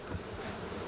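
Bees buzzing around a beekeeper's hives on St. Lucia in the Caribbean, a dense steady hum filling the short moment, close and without voices.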